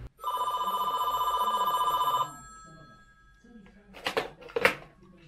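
A Brother FAX575 fax machine rings on an incoming fax call with a loud, trilling electronic bell for about two seconds, then quiet clicks and clunks of the machine follow.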